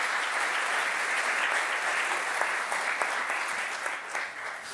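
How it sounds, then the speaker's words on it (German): A studio audience at a German sports comedy show applauds steadily, a dense wash of clapping that holds for several seconds and begins to thin toward the end. "Herzlich willkommen und einen großen Applaus bitte"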